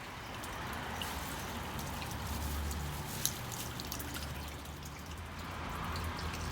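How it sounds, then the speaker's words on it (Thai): Water trickles and drains steadily through fresh potting soil in a rose pot, a continuous close, wet patter with scattered drips and no talking. "เพื่อนๆดูได้เลยว่าดินดีไหม น้ำไหลโจกเลย"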